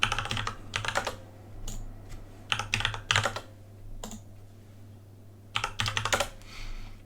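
Fast bursts of clicking keystrokes on a computer keyboard, irregular clusters of typing separated by short pauses under a low steady hum.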